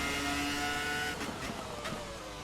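A 1998 McLaren Formula 1 car in a racing video game screams at high revs and then drops through a gear change, its engine note a loud, dense whine, with brief harsh bursts as it rides over curbs.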